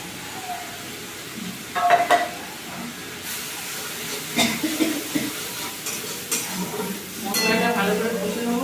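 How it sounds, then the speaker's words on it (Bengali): Spice paste for brinjal muitya fried and stirred in a pan: a steady sizzle with a spoon scraping and clattering at irregular intervals, strongest around two seconds and again near the end. "মশলাটা ভালো করে কষে নেবো।"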